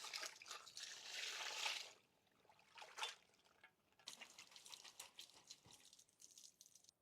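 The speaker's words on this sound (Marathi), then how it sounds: "आपण आता आंब्याचे पानं स्वच्छ पाण्याने धुवून घेऊ।" Tender mango leaves are rinsed under clean running water, with a steady close trickle and splashing that swells and falls in bursts, then continues more softly as the leaves are handled.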